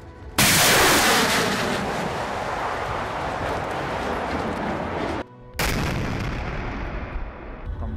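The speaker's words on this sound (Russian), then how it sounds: "Взрывчатое вещество взрывается и, соответственно, уничтожает, скажем так, ликвидирует все мины" A UR-77 mine-clearing line charge detonates across a minefield: a sudden, very loud blast opens into a long rolling roar, briefly cuts out, then resumes and slowly fades.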